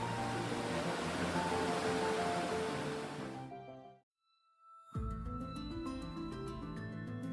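River water in Mindo rushes with a steady broadband roar, cutting out briefly to near silence before resuming with a similar flowing wash.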